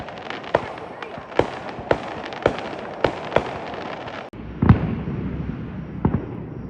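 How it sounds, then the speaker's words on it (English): Fireworks bursting on the far side of a hill during a night on the Appalachian Trail, a steady run of sharp pops every half second or so, then a louder deeper boom and scattered cracks over a low rumbling background. "The fireworks are just going crazy."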